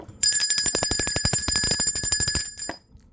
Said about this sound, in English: Let's ring the bell of consciousness for that.